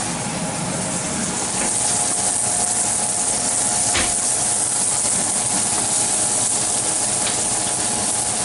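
Pork chop cooking in a boiling pan gives a loud, continuous hiss with mechanical rattling underneath and one sharp crackle midway, close and steady throughout.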